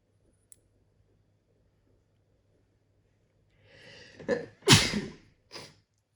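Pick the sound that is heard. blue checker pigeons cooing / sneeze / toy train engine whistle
sneeze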